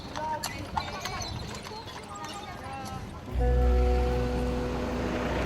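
Horse-drawn buggy hooves clip-clopping along Ghent's old streets, a steady near rhythm of hoof strikes, with a deep droning vehicle engine rising in the background partway through.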